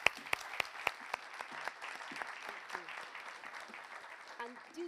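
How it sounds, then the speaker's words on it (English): An audience at an innovation summit applauds, starting with several sharp, close claps and then settling into a lighter, scattered clapping with some talk under it. "Ladies and gentlemen, a round of applause, please,"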